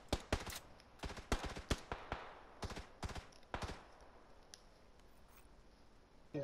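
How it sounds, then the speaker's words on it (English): Rapid bursts of gunfire in the video game PUBG crack out in clusters, sharp and close, then thin out into quieter scattered shots and background hiss. "I hear the gunshots near me though."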